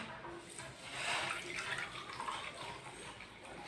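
Water is gently poured off a rice-flour papad dough, a soft continuous trickle and splash from a vessel, fairly quiet with no voices.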